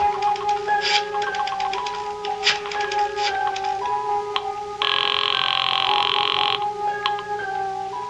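Telephone sound effect in an old-time radio mystery drama: a sequence of rapid electronic dial tones and clicks followed by a sustained bright ringing burst, then more short tones, close and clear with no talking.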